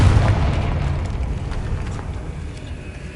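Confringo spell blast in a wizard video game, a single heavy booming explosion at the start that decays into a rumbling tail over a few seconds.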